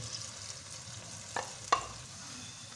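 Tomato paste and spices fry with browned onions in a pot, a quiet steady sizzle broken by a few sharp spoon scrapes and taps.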